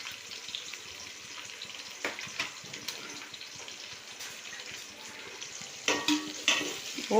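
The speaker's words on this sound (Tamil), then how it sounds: "நல்லா வதக்கி விடலாம்." Onions and green chillies sauté in a pan for homemade biryani, a soft, low sizzle with intermittent stirring scrapes and a few louder knocks toward the end.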